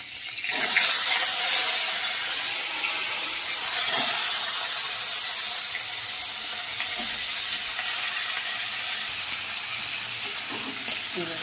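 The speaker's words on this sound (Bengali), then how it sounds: "আর কাঁচা লঙ্কাটা ফোড়ন দিয়ে নেব।" Green chillies crackle in hot oil, a loud continuous sizzling hiss with occasional sharp pops, steady from start to finish.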